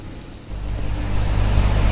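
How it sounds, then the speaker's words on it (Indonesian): An air-conditioned bus drives across the Gilingan Solo viaduct amid road traffic, its engine rumble rising and growing louder and nearer over two seconds, with no voices. "di sini terlihat ada bus AC yang kembali melintasi kawasan Viaduk Gilingan Solo"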